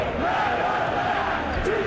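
A football stadium crowd gives a steady, broad roar of appreciation during play, sustained and fairly loud throughout with no clear breaks.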